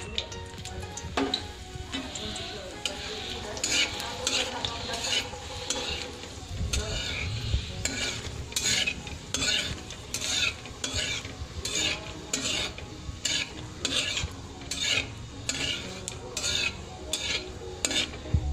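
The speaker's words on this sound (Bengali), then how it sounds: "তেলটা গরম হয়ে গিয়েছে। সবার প্রথমে আমি এখানে দিয়ে দেব শুকনো লঙ্কা।" Dried red chilies fry in hot oil while a metal spoon stirs and scrapes the pan in quick repeated strokes over a constant sizzle, close and fairly loud.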